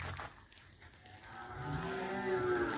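A cow for sale at a Vietnamese livestock market lets out a long, steady moo that grows louder as it goes on, heard close by over faint background noise and with no speech.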